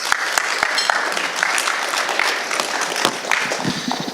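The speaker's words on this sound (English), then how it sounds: "Give him a round of applause, y'all." A crowd applauds at a company and product introduction event, with dense, steady clapping throughout, fairly close and loud, with a few sharper individual claps standing out.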